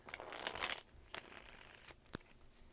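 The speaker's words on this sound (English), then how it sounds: "I just shuffled the deck that I'm going to use for you" A deck of tarot cards is handled and shuffled at close range, a quiet papery riffle and crinkle in a longer burst followed by a few short snaps and taps.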